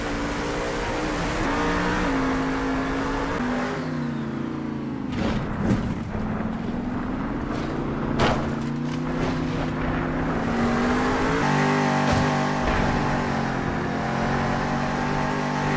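Monster truck engines roar and rev through a Monster Jam freestyle run in a Las Vegas stadium, with a loud sustained drone that rises and falls in pitch as the throttle swings, steady and close throughout.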